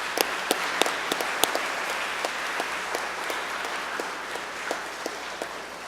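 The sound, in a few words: round of applause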